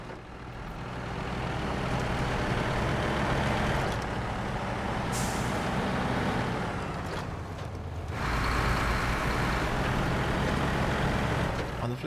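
A heavy truck drives in the snowy off-road video game SnowRunner, with a steady, loud engine rumble throughout. A brief hiss like an air brake cuts in near the middle.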